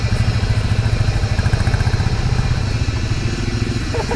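A scooter engine runs steadily and close by on a short ride out to Lakhuri Bhanjyang, a continuous low, throbbing drone with a faint rattling clatter and no pauses.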